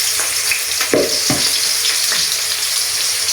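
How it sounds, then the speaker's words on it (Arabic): Chopped onion sizzles loudly in hot melted ghee for an okra dish, a dense continuous frying hiss with a couple of brief stirring scrapes, close and steady with no voices. "نحط السمنه، لا نحط البصل على السمنه ركزوا معايا."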